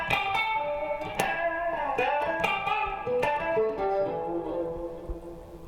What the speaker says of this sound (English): Now if I take one of those out of phase,